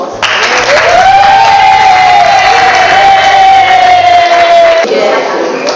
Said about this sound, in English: can we give Mr. Trevor Riggs a good round of applause?